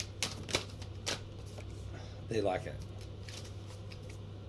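A deck of affirmation cards being shuffled by hand in a few quick riffling bursts, close and crisp, with a brief spoken phrase partway through over a steady low hum.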